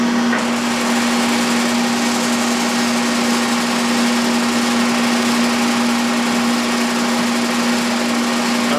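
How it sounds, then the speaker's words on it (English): A lathe reams a plasma-cut hole in a steel steady rest out to half an inch. It gives a constant, close mechanical whir with a steady high tonal whine, and there is no talk. "we're going to ream that hole out at a 1/2 inch"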